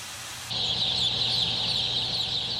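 Chicks in a poultry breeding house holding about twenty thousand birds: after a brief quiet start, a dense, continuous chorus of high peeping swells up and stays loud and steady to the end.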